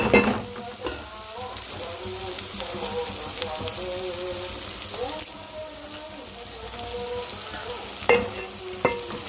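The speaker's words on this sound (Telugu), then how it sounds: "పచ్చిమిర్చి కూడా బాగా వేగుతున్నాయి కదా" Tomatoes, green chillies and onions fry in a pan for a mutton curry, a steady close sizzle with occasional stirring scrapes and bumps, while faint harmonic tones that may be background voices run underneath.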